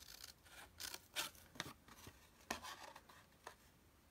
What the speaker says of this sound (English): I'm going to cut my sentiment out.